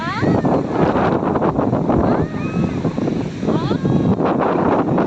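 Strong gusty wind buffets the microphone at Tannirbhavi Beach, with surf rumbling beneath and voices talking over it.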